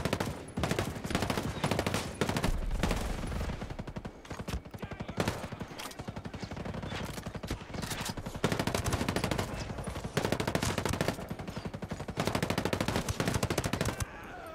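Gunfire in the video game Ghost Recon Breakpoint, with dense, rapid bursts of automatic shots repeating loudly across the whole stretch, broken by brief pauses.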